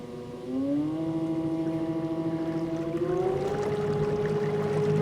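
A 24 volt electric outboard motor on a boat runs at half throttle, powered by two batteries, giving a quiet steady whine that climbs in pitch twice and then holds over soft water wash.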